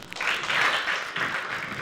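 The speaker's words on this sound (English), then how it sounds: "If you enjoyed this program, clap once for me." Audience at a World Book Day library conference clapping, a dense wash of many hands swelling and dipping in two bursts, moderately loud and fairly close, with no voices over it.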